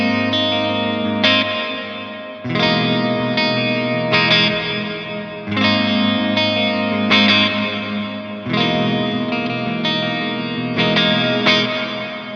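Electric guitar chords ring out through a Walrus Audio Fundamental Reverb pedal with mix at 100%, each strum washing into a long shimmering tail before the next, four or five phrases in all.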